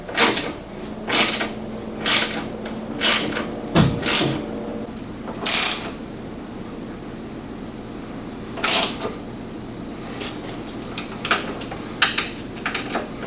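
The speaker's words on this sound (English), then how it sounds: "Now I'm going to go ahead and tighten up these four bolts." A ratchet tightens the four bolts on a RacerTech rear bumper fitted to a 900S. It clicks in short, sharp bursts with pauses between them, heard close up over a low steady hum.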